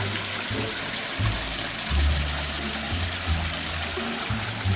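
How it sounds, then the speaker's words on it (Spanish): A small waterfall flows and trickles continuously into a small pond, a steady splashing stream with low gurgling underneath, moderately close and without voices. "Y ahí está la pequeña cascada."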